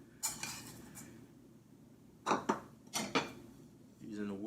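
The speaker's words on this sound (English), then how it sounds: "using a wooden spoon to kind of mix it around" A wooden spoon stirs pieces of beef liver in a Haitian épices marinade in a bowl, giving a few short knocking and scraping clatters in separate bursts, fairly close, with faint voice-like sound at the end.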